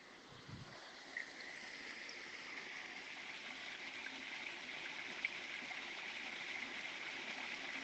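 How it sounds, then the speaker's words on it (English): Steady flowing water at Biddulph Grange Country Park, a continuous soft rushing like a stream, even and unbroken throughout with no voices. "that's the sound of water there"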